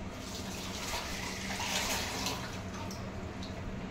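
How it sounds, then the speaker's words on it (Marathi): Fresh coriander is rinsed under a steady stream of tap water in a sink, a continuous close splashing rush with no talking. "तर मित्रांनो आता कोथिंबीर वॉश करून घेतो।"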